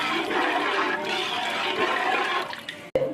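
Tamarind juice pours into a large pot of fish curry in a continuous, close, splashing gush that cuts off near the end with a brief knock.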